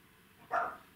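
One short, mid-pitched bark from a dog wanting to come inside, heard once at moderate distance against a quiet room.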